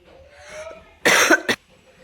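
A quiet lull, then two sharp harsh coughs close to the mic, the first longer and the second short, with silence afterward.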